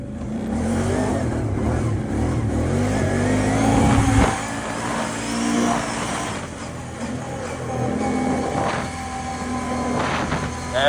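Engine of a G1 800 bike revving while riding, a loud, continuous rough roar that rises and falls in pitch with throttle changes, heard close up with wind noise throughout.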